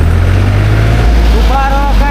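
A tractor engine runs close by in a steady loud drone that holds throughout, its pitch shifting slightly partway, while a voice speaks briefly over it.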